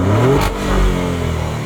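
A 2023 Maserati Grecale Trofeo revs its engine loudly and close, a deep throaty roar that swells and holds steady with a slight rattle, with no talking over it.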